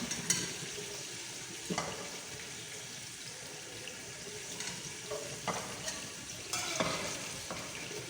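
Onion and garlic fry in a pot for chicken pulao, a steady close sizzle with occasional stirring scrapes and clinks and no voices.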